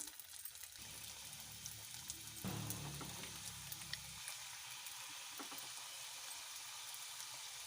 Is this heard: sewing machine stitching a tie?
no